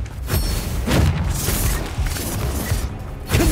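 Incendio fire spell cast in Hogwarts Legacy, a run of loud booming bursts and whooshing roars in quick succession, with a fresh blast at the end.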